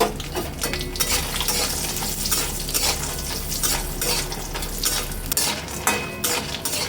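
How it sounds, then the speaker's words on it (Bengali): Bori, small sun-dried lentil dumplings, fry steadily in hot oil for a Bengali lau shukto, with a continuous close crackling sizzle and occasional scrapes and stirs of a utensil in the pan. "কিছুটা বড়ি ভেজে নেব।"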